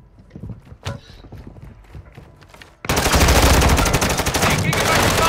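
Call of Duty Warzone gunfire: after a few seconds of quieter game sounds with scattered pops, a loud, sustained burst of rapid automatic fire dominates the rest of the clip.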